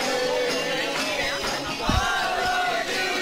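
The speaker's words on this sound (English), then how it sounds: "The crowd has been electrifying." Football crowd at a men's match between Broadbeach United and Logan Lightning at Broadbeach, a continuous roar of voices and shouts with a brief thump near the middle.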